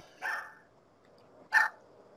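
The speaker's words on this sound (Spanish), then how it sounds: "¿Se escuchan mucho los perros?" Two short dog barks, one near the start and one about a second later, each clear and alone against a quiet background.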